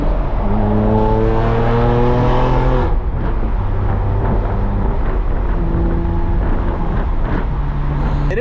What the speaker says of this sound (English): Like the burbles and the loud exhaust